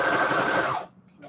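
A sewing machine stitching around the edge of a playing card, a brief fast whirring run that stops abruptly and leaves a faint trailing sound.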